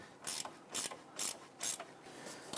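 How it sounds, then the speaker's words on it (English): Close, rhythmic ratcheting of a 15mm gear wrench working a rear lower control arm bolt on a 2011-2023 Dodge Charger, with five crisp bursts of clicking separated by short pauses and no talk. "We're also going to use a 15mm gear wrench on this."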